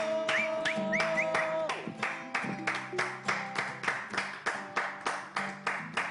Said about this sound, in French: vous avez des invités extraordinaires que je vais demander à tout le monde d'applaudir pour aujourd'hui